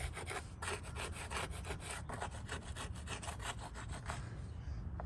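Steady back-and-forth rasping strokes of hand sanding in the engine bay of a 1987 Monte Carlo SS, rhythmic and close, with no voices.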